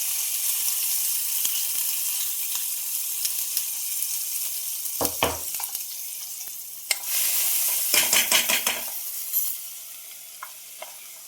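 Crushed green chili and garlic thecha hits hot oil with mustard seeds and cumin while cooking chana dal zunka, giving a steady sizzle with bursts of louder crackling and stirring scrapes midway and near the end.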